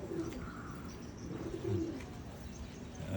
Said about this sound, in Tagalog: Bali 11 yan lahat mga kalapatids. Yan sila oh.